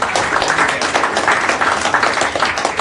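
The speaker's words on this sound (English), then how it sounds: "give it a round of applause" An audience at a JavaScript meetup gives a round of applause: dense, steady clapping from many hands, loud and continuous, with no speech.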